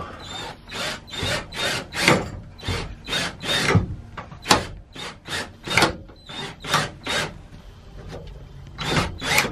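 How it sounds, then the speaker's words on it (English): A screwdriver cinches a fastener from below while a part is held in place inside a step van, giving a series of close, repeated ratcheting, scraping turns in an uneven rhythm with short pauses between strokes. "I've got to use this on top to hold it in place while I run a screwdriver from the bottom to cinch it up"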